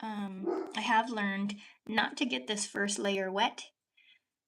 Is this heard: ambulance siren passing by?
no